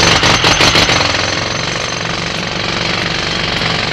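Jackhammer-style drilling into thick ice on a frozen expanse, as in road construction work: a loud, rapid, continuous mechanical pounding that sounds close and rattling throughout, with a few heavier bursts at the start.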